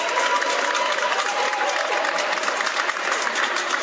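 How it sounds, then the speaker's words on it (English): Steady applause from an audience fills the whole stretch, a dense, even patter of many hands clapping at a political event about a cannabis decriminalization bill, with faint crowd murmur underneath. "Would y'all give him a round of applause for his effort?"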